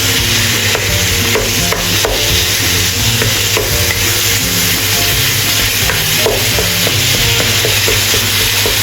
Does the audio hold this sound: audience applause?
no